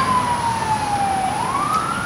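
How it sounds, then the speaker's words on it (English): An emergency vehicle siren wails in the background, one steady sweeping tone that dips and then climbs again, continuous and fairly distant with no talking over it. "Wow, sirens in the background."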